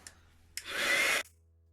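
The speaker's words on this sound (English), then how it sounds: "I'm going to keep out this white powder and set that with my heat tool" A handheld heat tool blasts on to set white embossing powder, a short near whooshing blower roar lasting about half a second before cutting off, with a faint hum beneath.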